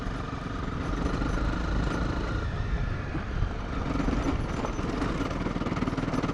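Motorcycle engine chugging along in third gear on an outback track in South Australia's Gammon Ranges, a loud, close, steady rumbling drone with continuous rapid firing pulses and wind noise, no speech.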